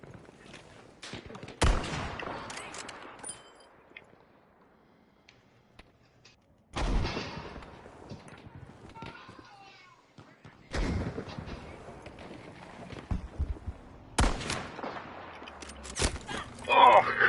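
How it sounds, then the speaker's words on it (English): Many fireworks bursting outdoors, heard as scattered loud booming blasts with crackling tails at irregular intervals, some near and some farther off, with quieter gaps between. "So many fireworks going off."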